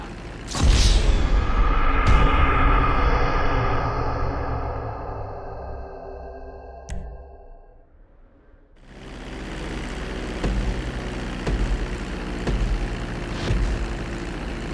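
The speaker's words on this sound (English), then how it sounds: "Now let's get the plane off the runway." A droning aircraft engine in Grand Theft Auto V rumbles loudly during takeoff, fades down to near quiet, then returns as a steady synthetic-sounding hum with no voices.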